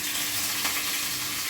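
Curry leaves go into hot oil that already holds popped mustard seeds and urad dal, a close, dense hiss and crackle that holds steady and briefly swells. Nobody speaks.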